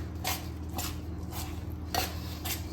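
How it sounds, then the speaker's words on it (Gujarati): A spoon stirs and scrapes through a hot, thick Mohanthal gram-flour mixture in a pot, giving a handful of soft, spaced metallic clinks and scrapes over a low steady hum. "અત્યારે ગરમ છે એટલે આપણે ચમચી વડે થોડું મિક્સ કરી લઈશું"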